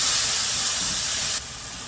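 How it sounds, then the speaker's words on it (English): Asparagus and lemon sizzle in a hot pan on the stove, a steady loud hiss that drops abruptly to a quieter sizzle partway through, with no voices. "I'm just cooking off some asparagus, some lemon"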